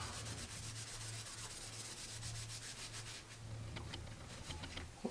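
A dirty cork fishing rod grip is rubbed and cleaned with quick, rhythmic scrubbing strokes, close and soft, with no talking.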